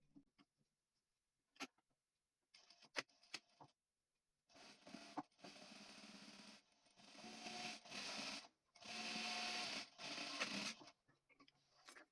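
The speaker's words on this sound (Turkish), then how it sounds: "Şimdi bu çizmiş olduğumuz yerlerin üzerinden dikiş atıyoruz." A sewing machine stitches along trousers being taken in, quiet close bursts of rapid needle whirring that start and stop, separated by faint clicks and handling sounds.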